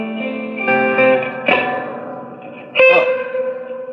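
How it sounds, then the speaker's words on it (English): An electric guitar played through an amp with a very poor, microphonic reverb rings out with sustained chords. Two sharp plucked attacks smear into a washy, echoing decay, close and fairly loud. "Now check out the reverb. This is the worst reverb in the history of amps."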